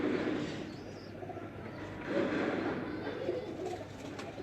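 Breeder pigeons coo softly in a loft, low throaty phrases repeating under a steady background hum, with a faint chirp now and then.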